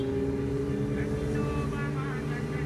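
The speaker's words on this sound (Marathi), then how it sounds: "आवाज बघा त्या मोटरसायकलचा" A Kawasaki motorcycle runs with a deep, steady engine drone and a hard firing note, loud and continuous, while voices chat faintly over it.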